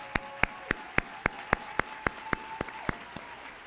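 Audience applause at an El Paso Community College nursing pinning ceremony, heard as about a dozen evenly spaced, crisp claps in a steady rhythm, fairly faint and alone.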